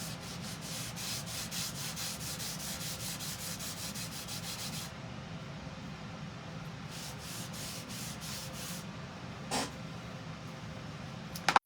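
Cold wax is rubbed onto a wooden sign in quick, even back-and-forth strokes, a soft rhythmic scrubbing that pauses midway and then resumes, with a brief knock near the end.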